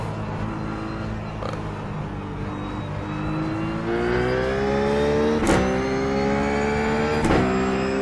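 A Ruf GT3 race car engine in the iRacing simulator at Zandvoort revs and downshifts through the gears, its loud droning note stepping up sharply with blipped changes and rising pitch, with no talking over it.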